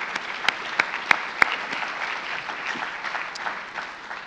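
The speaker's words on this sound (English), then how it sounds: "So let's give them an applause." Applause from a lecture audience in a hall, a fairly thin scattering of claps with a few sharp individual hits near the start, moderately distant and steady for a few seconds.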